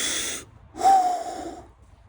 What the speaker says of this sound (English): Deeply breathing.